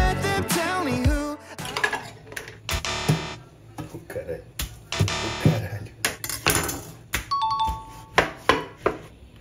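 Dishes and cutlery being gathered and put away in a home kitchen before washing, with light clinks and clatters spread through the clip alongside a voice and a few bright chiming knocks.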